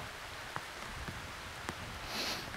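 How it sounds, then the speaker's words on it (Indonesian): Soft, steady rain falls throughout, with a constant hiss and a few faint drops tapping nearby, quiet and uninterrupted. "Dan ditutup dengan hujan."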